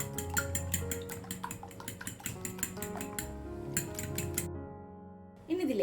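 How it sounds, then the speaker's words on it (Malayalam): A fork beating two eggs in a bowl for an omelette, quick rhythmic metallic clinks and taps against the dish, fairly quiet and close, ending with a brief pause and a soft knock. "നമുക്ക് നന്നായിട്ട് തന്നെ ഒന്ന് ഫോർക്ക് വെച്ചിട്ട് നന്നായിട്ടൊന്ന് ഉടച്ചെടുക്കാം."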